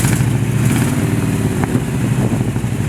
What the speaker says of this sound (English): we'll see if it keeps backfiring